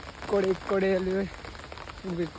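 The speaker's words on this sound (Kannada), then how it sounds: "ಫುಲ್ ಮಳೆ ಬರ್ತುಂಟು ಗೈಸ್, ಏನು ಮಾಡೋದು. ಕೊಡೆ ಹಿಡ್ಕೊಂಬಂದಿದ್ದೀನಿ." Heavy rain drums steadily on an umbrella in a downpour, a constant pattering hiss running under a person talking close by.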